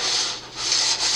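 Sanding on a plastic 1/200 scale model of the German battleship Bismarck, a close, loud, dry rasping rub that swells and dips with each back-and-forth stroke.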